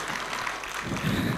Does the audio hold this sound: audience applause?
yes